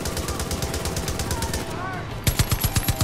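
An anti-air gun firing in Far Cry 5's Hope County, a steady rapid string of heavy thumping shots, loud and close, pausing briefly before a louder burst resumes.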